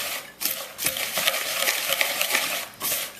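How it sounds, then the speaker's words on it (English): A wire whisk stirs dry homemade BBQ rub spices in a bowl, giving a steady, close scratchy rustle with light clinks against the sides and no talking. "I like to use a whisk. I think the whisk is the easiest way to get this stuff mixed up."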